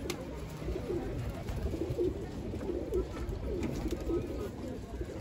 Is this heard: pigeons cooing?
yes